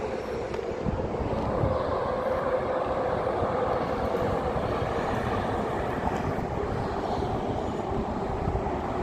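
A Busan Metro Line 3 subway train crosses the Nakdong River in the evening. Its steady rumbling roll carries on at an even level for the whole stretch.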